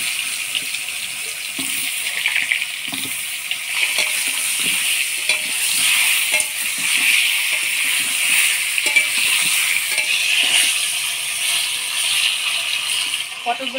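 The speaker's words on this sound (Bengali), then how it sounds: "পটলগুলো আমি হালকাভাবে নাড়াচাড়া করে ভাজে নিলাম।" Pointed gourd seasoned with turmeric and salt fries in hot oil in a wok, a continuous bright sizzle with clinks and scrapes as it is stirred, while a voice talks over it.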